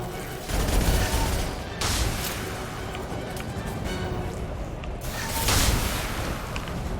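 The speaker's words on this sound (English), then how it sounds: "Oh, flashbang." A flashbang grenade goes off amid combat in Mass Effect Legendary Edition, a sharp burst with a bright hissing wash, under scattered gunfire and a voice speaking nearby.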